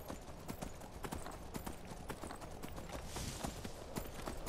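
Horse hooves clip-clop in a steady, quick rhythm while riding in the video game Skyrim, clear and continuous with faint game ambience beneath.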